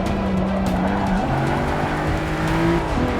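Race car tires in Forza 6 Apex squeal loudly in long, wavering shrieks over a constant engine roar, with the pitch of the skid sliding and shifting as the car fights for grip.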